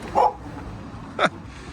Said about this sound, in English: Oh, look, an old dog.